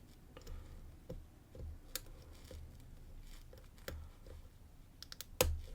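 Lock picking with faint, sparse little clicks of pins setting inside a lock, close up and quiet, irregularly spaced with a few slightly sharper ticks near the end.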